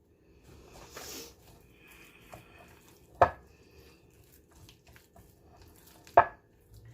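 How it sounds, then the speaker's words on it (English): A knife slicing a banana into a bowl, heard as two sharp, distinct cuts about three seconds apart against a quiet background, with a few faint soft taps between them. "So I'm going to slice 1 banana right into it."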